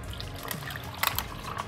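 Filtered cold brew coffee poured into a glass, a faint short trickle and splash with a few small clinks, quiet and close.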